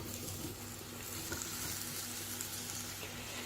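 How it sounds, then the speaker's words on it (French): Cubed pumpkin sautéing in a pan for a creamy pumpkin soup, giving a steady, even sizzle and crackle with no break, close and moderately loud throughout. "je vais ajouter le potiron que j'ai coupé en cubes. Je vais le faire revenir pendant à peu près 8 minutes."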